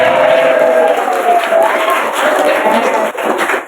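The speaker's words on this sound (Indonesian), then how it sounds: "Tepuk tangan untuk penontonnya sendiri." Audience at a pesantren quiz competition applauds steadily, a dense wash of clapping with crowd noise and some voices mixed in, holding fairly loud throughout.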